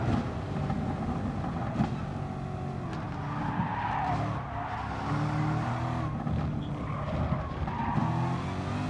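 Race cars in Gran Turismo Sport during an online multiplayer race, with a steady loud engine roar shifting pitch through gear changes and tire skid noise as one car passes another, with no talk.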